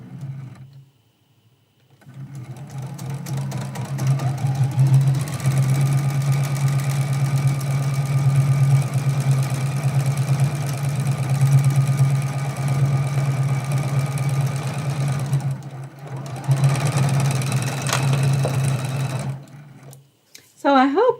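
A sewing machine stitches the last seam of foundation paper piecing for a quilted trivet, humming in a steady, fast run for about thirteen seconds, stopping briefly, then running again, close and alone with a little talk at the edges.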